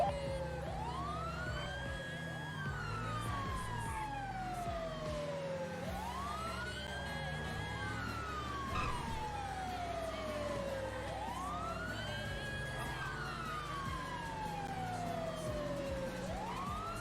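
An ambulance siren in a video game wails in long rising and falling sweeps, repeating steadily and loudly, with a low engine rumble underneath throughout.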